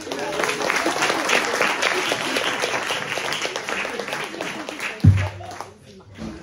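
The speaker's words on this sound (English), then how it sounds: "Give yourself a round of applause" Audience gives itself a round of applause, a crowd clapping steadily at close range for about five seconds, ending with a low thump before a voice starts to speak.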